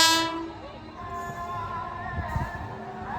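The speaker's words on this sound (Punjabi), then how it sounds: "ਟ੍ਰੇਨ ਪਹੁੰਚ ਚੁੱਕੀ ਹੈ ਜੀ ਸਾਰੇ ਸੰਗਤ ਦਰਸ਼ਨ ਕਰੋ ਜੀ ਟ੍ਰੇਨ ਪਹੁੰਚ ਚੁੱਕੀ ਹੈ ਜੀ" A train pulls into the station at Khanna carrying a pilgrimage group on a tour of the five Sikh takhts from Sri Hazur Sahib. A loud horn blares at the start over rumbling wheels, with steady rail noise throughout.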